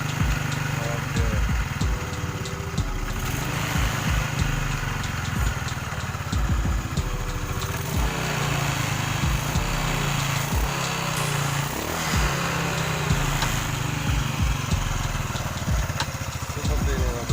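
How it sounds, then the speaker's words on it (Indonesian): A rebuilt Yamaha Lexam automatic scooter engine, fitted with a new piston and connecting rod, is started and left idling with a steady close putter for the whole stretch while people talk over it. "sekarang kita coba hidupin mesinnya"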